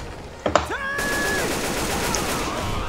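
A couple of sharp gunshots ring out in Left 4 Dead 2, followed by a sustained whining tone and steady game noise.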